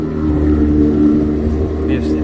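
An outboard motor on a Seaswirl 172 Striper boat runs steadily at close range, a loud, even low engine drone with wind noise over it.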